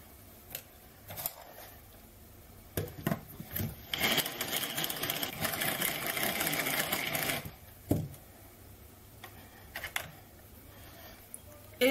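A hand-cranked Tupperware Speedy Chef whips cold cream with icing sugar, giving a steady, rapid whirring and rattling for several seconds. Scattered clicks and handling noises come before and after.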